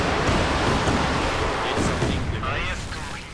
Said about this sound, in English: Another Panzerwerfer barrage.